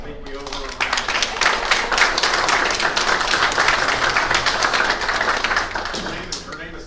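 Applause at a town board of aldermen meeting, a dense room-wide round of clapping from the seated audience that rises quickly, holds steady for several seconds and then tapers off.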